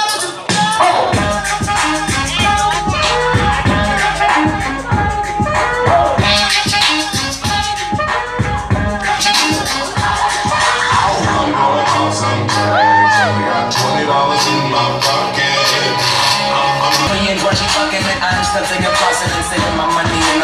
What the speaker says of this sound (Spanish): Venga, fuerte el aplauso.